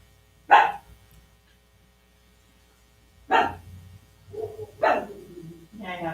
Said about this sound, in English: Bark here and there, but I guess every dog does.